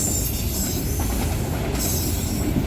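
A freight train hauling auto rack cars rolls past nearby, a steady loud rumble of wheels with high metallic squealing throughout.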